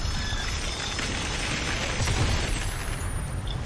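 Steady rain and hiss pour down in the gluttony circle of the Dante's Inferno video game, a dense, continuous wash with low rumbling underneath and no talking.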